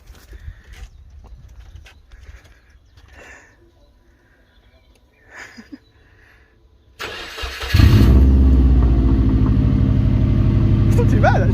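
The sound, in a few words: Subaru Impreza WRX engine running with open exhaust, no muffler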